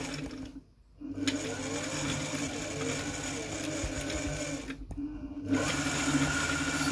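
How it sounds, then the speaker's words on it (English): A Riccar 5600 sewing machine runs its bobbin winder with a steady, close mechanical whir and hum, dropping out briefly twice as the pedal is released. "Can you see the bobbin winder moving?"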